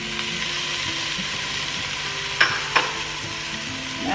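Potato, chickpeas and tomato sizzle in a pan on a camp stove with a low steady hiss, and two sharp utensil clinks stand out as the mix is stirred.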